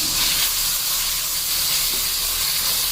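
Chicken frying with ginger and garlic in a pan gives off a steady, loud hiss and sizzle that runs unbroken from start to finish, with no voices over it.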